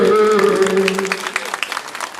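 A crowd claps at a Hindi poetry recital, bursting in right after a voice and then thinning into scattered, fading claps over about two seconds.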